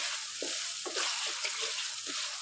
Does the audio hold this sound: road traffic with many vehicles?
no